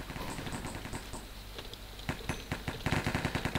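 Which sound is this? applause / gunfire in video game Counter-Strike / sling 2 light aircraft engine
gunfire in video game Counter-Strike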